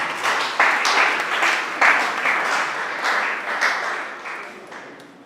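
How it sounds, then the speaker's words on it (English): An audience at a school debate grand final breaks into dense, sustained applause, many hands clapping together at a steady level before tapering slightly near the end. "Let's give a round of applause, please."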